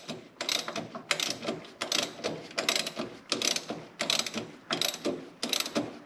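A hand ratchet tightens an electronic PTO clutch on a Hustler zero-turn mower. It gives repeated bursts of sharp clicking, about eight short strokes in a steady rhythm, loud and close with brief pauses between strokes and no talking.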